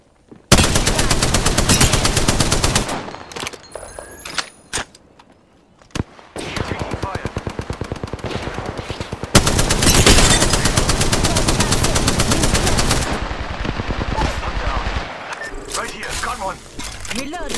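Rapid automatic machine-gun fire in the shooter game Apex Legends rattles in long, loud, sustained bursts, broken by short pauses and a few single sharp cracks.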